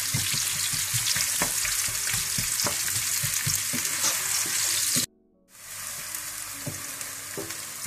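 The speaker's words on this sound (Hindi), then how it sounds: "इसमें आप प्याज डाल लें। इनको आप ब्राउन कर लें।" Onions frying in desi ghee for degi chicken biryani, a loud steady sizzle close up with rhythmic stirring scrapes, briefly cutting out before the frying hiss returns.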